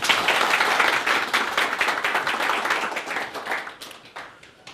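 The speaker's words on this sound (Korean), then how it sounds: "박수 한번 주십시오" Dense, continuous clapping from a lecture audience, loud and steady, thinning slightly toward the end.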